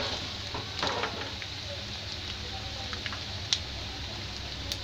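Whole spices with panch phoron and fenugreek seeds frying in hot oil in a pan for fish curry, a steady close sizzle with faint pops and a soft stir, no voices.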